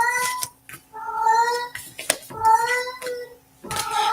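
A house cat meows several times in separate drawn-out calls with short pauses between them, close and fairly loud, while a voice murmurs briefly.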